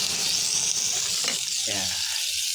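Garlic, ginger, onion and chili sizzle loudly in a hot pan for squid adobo, a constant close hiss under short bits of talk.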